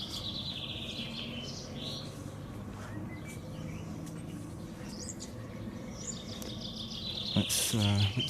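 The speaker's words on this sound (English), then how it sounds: "Can you hear the birds singing?" Small birds chirp and sing in a quiet Dutch village in North Brabant, high calls scattered through the clip over a low background hum, with a louder rustle or knock near the end.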